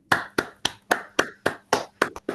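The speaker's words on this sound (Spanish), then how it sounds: "podemos abrir los micrófonos y agradecer con un fuerte aplauso a Analía por la charla" Hand claps after a talk at a conference: about nine sharp, evenly spaced claps in quick succession, close and clear, with no talking.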